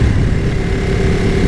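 A Ducati 959 Panigale motorcycle engine braking while being ridden, a loud, steady low-pitched engine drone with a rough, rumbling texture heard up close.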